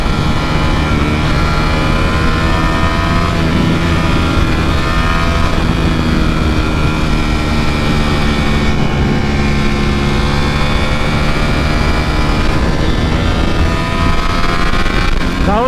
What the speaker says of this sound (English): That was those Porsche guys, Porsche, Audi, and I think a Corvette or something